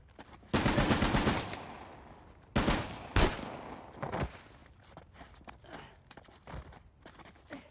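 Gunfire in the video game Uncharted The Lost Legacy, several loud bursts of automatic fire separated by short gaps, followed by scattered fainter shots and footsteps.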